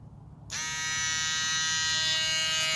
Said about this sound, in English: it's the motor just jamming up